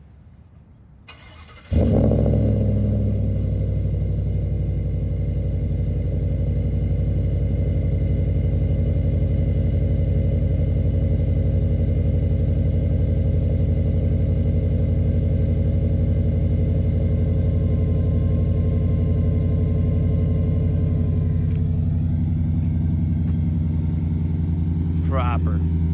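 A Chevrolet Suburban fitted with an MBRP exhaust cold-starts with a short crank and catches, then settles into a loud, steady, deep idle that rumbles on close to the microphone for over twenty seconds.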